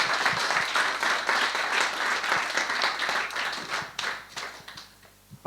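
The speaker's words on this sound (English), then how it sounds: "Then a big applause for" A conference audience applauds a speaker at a live pioneers event in Ljubljana, steady dense clapping filling the room for several seconds before thinning out near the end.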